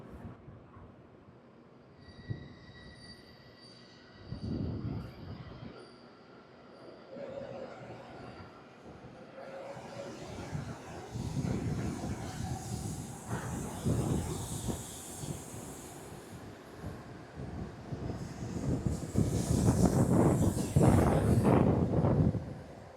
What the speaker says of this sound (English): let's see the train off then, as it departs with pretty much everyone that was on board this train